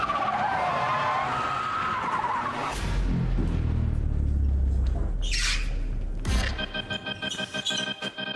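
A car skids sideways in a handbrake slide during stunt filming in Thailand for F9. The close engine roar builds into a long tyre screech, then sharp squeals trail off at the end.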